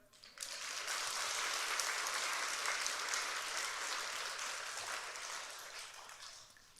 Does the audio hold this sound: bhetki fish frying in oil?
no